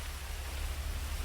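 Steady rain falls in a video game, a dense, even hiss of continuous downpour with no breaks and no voices.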